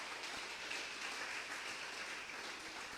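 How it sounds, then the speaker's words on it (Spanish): A church congregation claps together in praise during a worship service, producing a dense, even wash of applause that holds steady throughout without breaks. "El aplauso fuerte al Rey bendito de la gloria."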